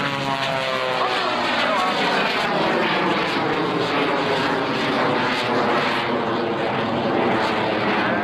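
A propeller airplane roars past steadily and loudly at an air show in Hampton Roads, its engine note shifting as it comes by at about 170 miles an hour.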